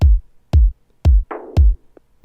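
House music beat with four punchy kick drum hits at a steady tempo and a tom hit sounding just after one of the kicks, loud and close with no talk.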